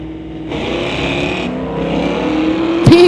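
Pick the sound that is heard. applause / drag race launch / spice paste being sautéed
drag race launch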